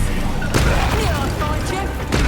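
Incendio fire spell cast in Hogwarts Legacy, a loud burst of crackling, booming combat effects with sharp impacts near the start and end, mixed with shifting whooshes and tones, under a busy game mix.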